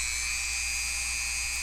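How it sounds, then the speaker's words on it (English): A small rotary drill or Dremel bores out little holes in the plastic of a Han Solo DL-44 blaster replica, a steady high-pitched whine that runs without a break, close and loud, with no talking. "you're just going to turn it on and carefully drill out all those little holes"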